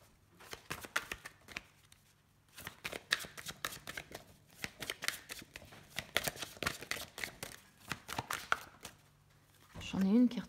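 Tarot cards being gathered up and handled, a run of quick papery riffles and soft slaps in close bursts with short pauses, fairly quiet, ending with a brief louder rustle.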